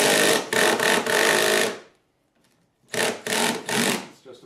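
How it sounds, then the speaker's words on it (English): A power driver whines in two bursts while running a screw into wood on a homemade shop jig, the motor pulsing briefly within each run, with a short quiet pause between them. "I'm just going to run another screw in right here."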